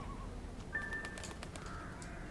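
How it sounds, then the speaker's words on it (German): Several ravens in The Secret World give short, sharp caws that come in a loose string over a steady game ambience, with a thin tonal whistle running beside them. "jetzt sind es schon zwei Raben"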